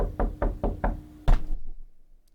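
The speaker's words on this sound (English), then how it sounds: "it seems there's somebody at the door in the basement of my house" Four evenly spaced, loud knocks on a basement door in a house, followed by one heavier thump, with no voices.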